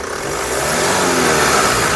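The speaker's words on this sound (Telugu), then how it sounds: "ఇంజన్ యొక్క నాయిస్ పర్ఫెక్ట్గా అయితే ఉందండి డీజిల్ కార్ అండి" A 2016 Chevrolet Cruze LTZ diesel engine revs loudly and steadily, close to the microphone, with no voices.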